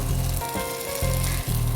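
Close, steady sizzle of saffron-tinted zarda rice frying in Sun Premium ghee while being stirred, with brief scraping shifts in the hiss and no talking.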